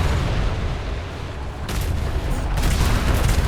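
A sailing warship's cannon broadside in a naval combat game, heard as a dense, continuous roar of overlapping booms and rumbling blasts. Sharper bursts of fire come in the latter half, with no speech over it.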